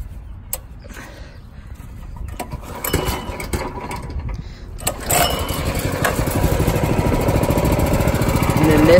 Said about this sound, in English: So now I'll just have to turn it on.